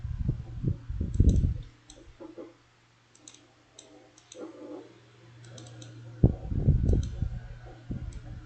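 Mouse clicks in GeoGebra sound as sharp, sparse ticks while triangle angles are measured, spread across the stretch between two bursts of talk.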